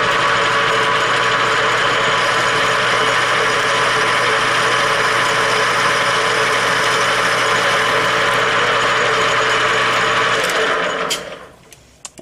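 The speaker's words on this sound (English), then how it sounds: "now I'm just going to take and just put a little chamfer on the end of that" Lathe cutting a small chamfer on the end of a knurled part, a steady high whirring drone with a faint vibration that holds for about ten seconds, then spins down and stops with a couple of light clicks.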